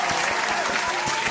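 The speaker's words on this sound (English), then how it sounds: "let's give my Ruby a hand clap." Audience applause for a guest on a women's inspirational podcast, steady dense clapping throughout with a few sharper individual claps standing out, moderately loud and close, with no talking.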